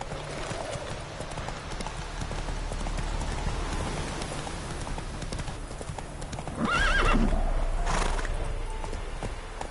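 Roach, a horse in The Witcher video game, gallops with a quick rhythmic clip-clop of hooves and gives a clear whinny partway through, with the hoofbeats loud and close.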